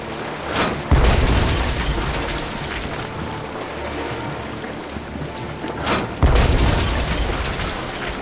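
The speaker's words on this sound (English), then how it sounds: "Then empty the cannons on him, me hearties!" Two heavy cannon blasts boom out in a pirate ship battle in the video game Tales of Monkey Island, each a sharp low thud followed by a long rumbling roar over a steady sea-like wash.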